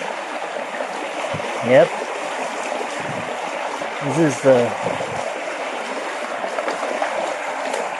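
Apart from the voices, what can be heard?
water trickling down a small waterfall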